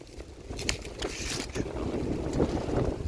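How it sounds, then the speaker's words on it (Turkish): Steady wind buffets the microphone outdoors in a walnut orchard, producing a continuous low rumble with gusty swells and no speech. "Biraz rüzgar var inşallah sesimiz dalgalanmıyordur."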